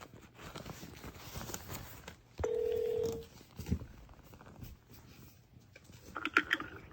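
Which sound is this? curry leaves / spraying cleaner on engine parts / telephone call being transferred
telephone call being transferred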